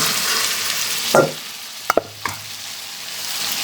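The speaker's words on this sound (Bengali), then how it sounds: "এখন আমি ভাজা মুরগিগুলা দিয়ে দিচ্ছি" Fried chicken pieces dropped into spice masala cooked down in oil, a steady sizzle with a couple of clattering knocks as the pieces land and get stirred.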